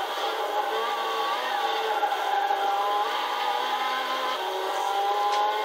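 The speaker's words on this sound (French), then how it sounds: "Ah on dirait que la voiture elle accélère à mort là" A race car in Gran Turismo 6 during the Le Mans 24 Hours, its engine droning and whirring steadily at high revs throughout, with layered tones from other cars and no talk.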